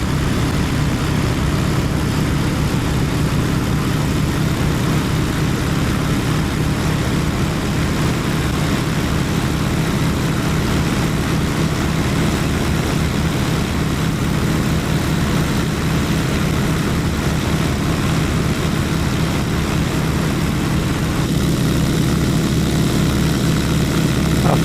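A Winjeel propeller aircraft's engine running steadily through takeoff and climb, a loud, continuous droning roar at 2000 RPM that holds constant throughout with a slight shift near the end, no voices.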